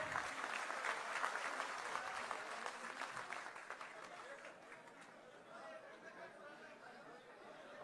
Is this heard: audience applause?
yes